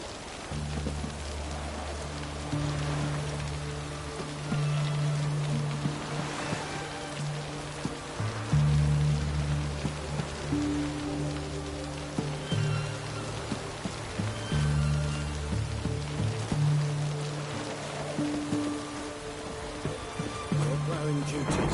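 Steady rain falls in The Witcher 3: Wild Hunt, a soft continuous patter with a low hum running beneath, voices talking over it at times.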